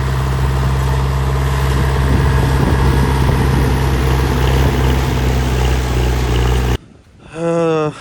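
A tractor engine running hard in a field during disking, a loud continuous low drone with a steady rumble that cuts off near the end, after which a voice is heard.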